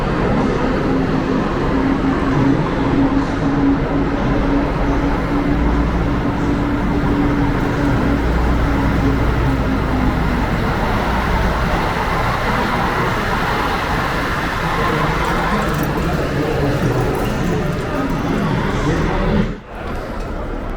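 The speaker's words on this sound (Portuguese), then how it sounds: "No momento que sai ali atrás, o Aviação Itapemirim, o Dream Bus." An Itapemirim Dream Bus double-decker coach pulls out of a Belo Horizonte bus station, its diesel engine rumbling loudly and steadily for about twenty seconds amid station noise before a brief drop at the end.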